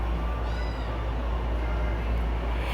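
Cats meow inside an animal shelter cattery where spayed and neutered kittens await adoption, the calls rising over a constant loud background hum.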